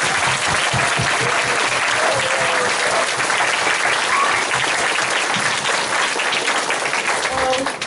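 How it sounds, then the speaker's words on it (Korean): A school audience of middle school students applauds a visiting member of parliament, loud sustained clapping filling the whole stretch with a murmur of voices underneath. "오늘은 큰 박수 부탁드립니다."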